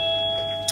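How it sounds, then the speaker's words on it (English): An electronic doorbell sounds as sustained pure tones that ring steadily through a brief moment, fairly loud and close. "let's have the doorbell going"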